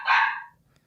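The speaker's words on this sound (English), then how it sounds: "the dog's barking at someone out there" A single short dog bark, sharp and fairly close, followed by near silence.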